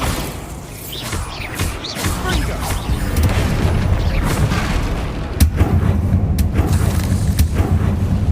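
Spell explosions from Confringo and Bombarda in the video game Hogwarts Legacy: dense, booming blasts and crashes layered over rumbling game ambience, with sharp impacts standing out near the end.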